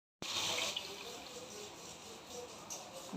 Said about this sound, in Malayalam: ഇനി നമ്മൾ ഈ ഇതിൽ കുറച്ച് വെള്ളം ഒഴിച്ചിട്ട്